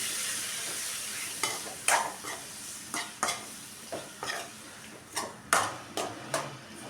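Chili powder and mustard-fenugreek powder are stirred into lemon pickle, giving a slow series of distinct scraping strokes against the vessel, each a short swish with gaps between, close and fairly quiet, with no talking.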